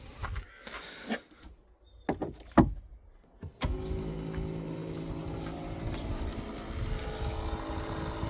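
Electric power window motor on an ex-police BMW, a few clicks and knocks first, then a steady whirring hum that keeps running at close range without stopping.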